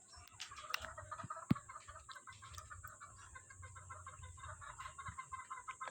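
Chickens cluck softly in a garden yard, with a run of low rhythmic clucks and a few sharp clicks over quiet background.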